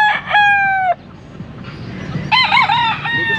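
Young stag roosters at a gamefowl sale crow loudly nearby, one long crow followed by a second wavering crow, with faint clucking and low background noise between them.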